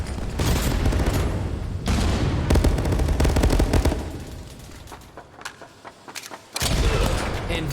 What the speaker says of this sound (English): taking heavy gunfire here from another position